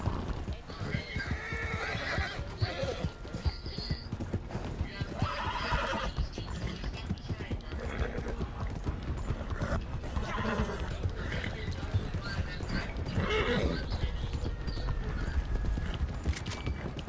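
Horse hooves in a video game clip-clop in a fast, steady gallop beside a train, with neighs breaking through, while voices talk over the noise.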